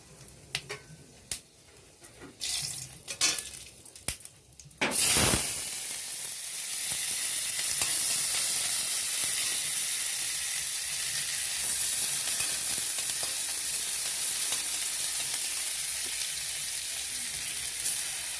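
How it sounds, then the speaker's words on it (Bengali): Chopped onion hitting hot fish oil already seasoned with cumin, bay leaf and a dried chilli, a few knocks and clatters first, then a sudden loud burst of sizzling that settles into a steady, bright frying hiss. "এবার আমি পেঁয়াজ কুচিটা দিয়ে দেবো"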